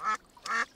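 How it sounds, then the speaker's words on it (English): A cartoon duck quacks twice in a children's animated scene at a park pond, two short nasal calls separated by a brief pause, moderately loud and close with no talking. "Flop, that duck quacked at Hoppity"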